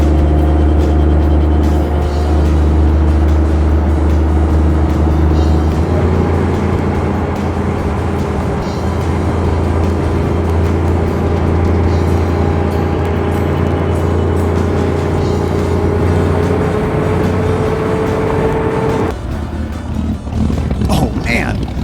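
A tank-engine-powered roadster rumbles through Los Angeles streets, its deep, steady engine drone loud and continuous, shifting in pitch partway through, with wind noise and a voice talking over it.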